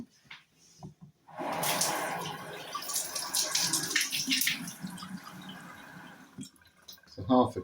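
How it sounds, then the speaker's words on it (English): Water pours steadily for several seconds into porridge, a splashing, trickling stream into a container, with brief clinks and handling noises before and after. "And then I need to add water back into this."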